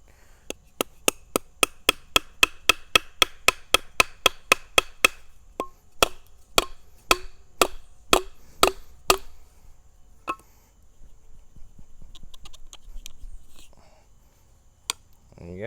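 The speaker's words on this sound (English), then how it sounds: "I guess we can hammer it in." Sharp, regular strikes ring out as a Mini Survivor knife, a Ka-Bar replica, is hammered in: a fast even run of close, crisp impacts, then slower, irregular blows that thin out, with faint murmuring in between.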